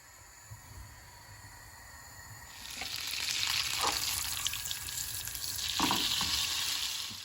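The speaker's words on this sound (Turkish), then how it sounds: "Şöyle 50 gram kadar tereyağı eritiyorum." About 50 grams of butter melting in a pan for kebab, a soft hiss that swells into steady loud sizzling with brief stirring clatters, close up and without talking.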